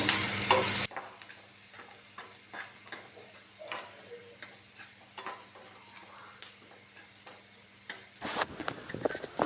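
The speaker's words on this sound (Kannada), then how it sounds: "ಈರುಳ್ಳಿ ಚೆನ್ನಾಗಿ ಫ್ರೈ ಆಗ್ತಾ ಇದ್ದಾವೆ." Onions fry in a pan, a soft steady sizzle broken by quick clicking taps and scrapes of stirring. A louder burst of frying noise comes at the start and again toward the end.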